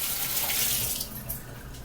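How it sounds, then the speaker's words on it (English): Tap water runs steadily into a kitchen sink as asparagus is washed, a close, continuous splashing hiss with no speech. "I'm going to wash these off while they're actually"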